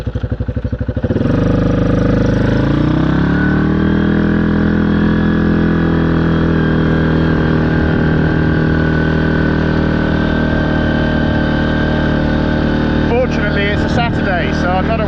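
Quad bike engine starting with a few rough pulses, then settling into a loud, steady idle close by, with some rattling and revving toward the end as it begins to move off.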